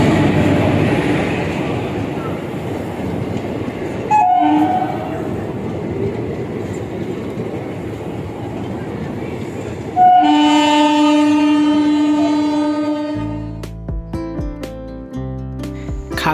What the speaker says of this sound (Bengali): আর আমাদের ট্রেন আসছে 3 নম্বর প্ল্যাটফর্মে।